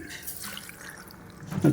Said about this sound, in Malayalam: കുറച്ച് വെള്ളം ഒഴിക്കട്ടെ കേട്ടോ